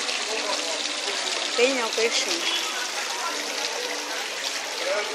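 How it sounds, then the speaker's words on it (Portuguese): Decorative water cascade on a pizzeria facade in Maceió at night, a steady rushing splash of falling water close by, with people speaking over it briefly. "Aqui na fachada da pizzaria tem essa cachoeira aqui, ó. Essa cascata."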